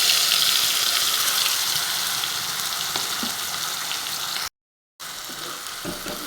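A bay leaf and spice paste fry in hot oil with a steady, loud sizzle and occasional stirring scrapes, during home cooking of a paneer dish with potato, peas and tomato; the sound cuts out briefly, then resumes.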